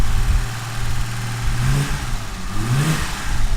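A 1970 Mercedes-Benz 280SL engine, warmed up, is revved twice in quick succession, each blip rising sharply from a steady idle and falling back, loud and close with no talking.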